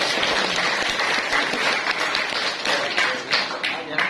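A classroom of students applauds their class leader during a school orientation, a dense burst of clapping from many hands sustained for several seconds, with some voices mixed in.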